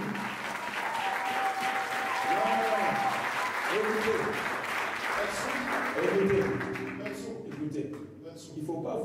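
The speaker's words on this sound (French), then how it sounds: "Est-ce qu'on peut acclamer pour Jésus maintenant?" A church congregation cheers and applauds for Jesus: dense, sustained clapping mixed with shouts and raised voices, loud and close throughout, then thinning slightly near the end.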